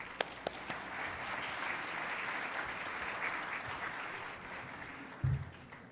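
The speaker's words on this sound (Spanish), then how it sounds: "Les pido un fuerte aplauso para el doctor." Applause from a panel audience greeting a speaker, a steady, fairly faint and distant patter of many hands with a few sharper claps near the start and a bump near the end.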